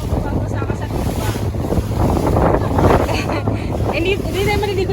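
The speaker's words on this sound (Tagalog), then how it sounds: "Yan, ang speedboat." A speedboat rides over the sea near Puerto Galera, with a loud steady rush of engine, hull slap and wind buffeting the microphone throughout, and a voice briefly audible under the roar.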